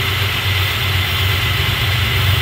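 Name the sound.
Chevrolet Beretta car engine running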